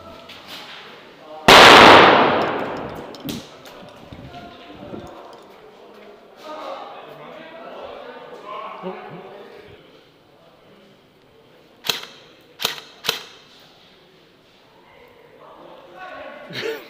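Airsoft guns fire during an indoor CQB game, with one loud close burst early on and a few sharp, quick pops later in the clip, under faint background talk.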